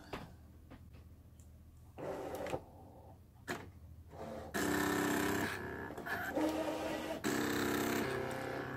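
A Brother ScanNCut DX SDX225 cutting machine runs with its auto cut blade, giving off intermittent mechanical whirring and ticking bursts that grow louder and more sustained partway through, with no talking.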